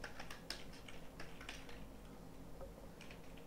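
Quiet clicking of keys on a computer keyboard, a quick irregular run of taps close by with a low hum underneath.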